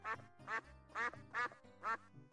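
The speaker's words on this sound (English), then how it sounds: "noisy ducks at the front there" Ducks in the video game Simon the Sorcerer quack five times in a steady, evenly spaced rhythm, clear and close with nothing else heard.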